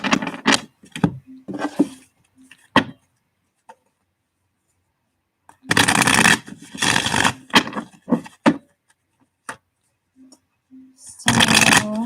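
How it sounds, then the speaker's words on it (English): Tarot card decks are shuffled in quick, close riffling bursts separated by stretches of near silence, with two longer vigorous shuffles in the middle and at the end. "this might take me a second just so I can get a good shuffle"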